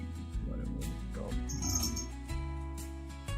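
A pet cat cries out in the background, giving a faint wavering meow-like call beneath steady electronic game music and low humming tones.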